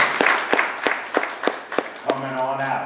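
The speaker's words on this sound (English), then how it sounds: "let's give our choir a round of applause" A few spaced, distinct hand claps from a small gathering at a church Lenten lecture, acknowledging the choir, about seven separate claps before a voice begins speaking.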